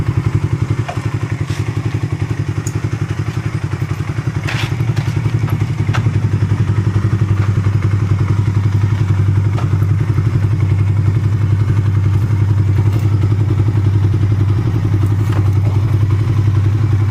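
A motorcycle engine idles close by with a steady low rumble, with occasional clatters and thumps on top and no talk.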